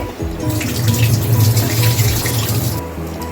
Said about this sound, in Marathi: आता मी याला व्यवस्थित दोन पाण्याने धुवून काढले